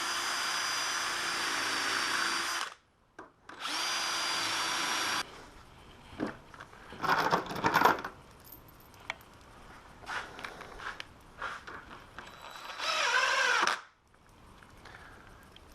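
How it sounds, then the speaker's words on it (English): A power drill with a self-centering bit bores pilot holes for number 14 screws while hinges are fitted to a door, giving loud sustained whirring runs that start and stop, separated by quieter handling noise. "self-centering drill bit. That'll just put a nice hole for those number 14 screws right in the middle of the pilot hole there."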